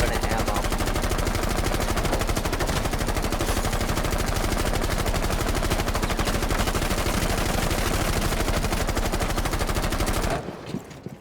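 Automatic gunfire blazes nonstop in Rainbow Six Siege, a loud rapid stream of shots for about ten seconds before cutting off abruptly into near silence.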